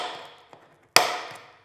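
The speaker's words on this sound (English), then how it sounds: "So what I'm gonna do is use this center punch," A hammer strikes a center punch once to make a punch hole in acrylic for a car speaker adapter ring. It is a single sharp, close metallic tap with a short ringing decay, framed by a few faint small knocks.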